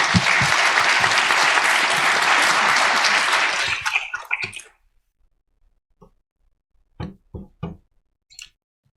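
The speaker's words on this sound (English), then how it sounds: "round of applause for Vanessa" Audience at a software and tools demo session applauds in a dense burst for about four seconds, then the clapping thins and fades out, leaving near silence broken by a few isolated knocks and handling sounds.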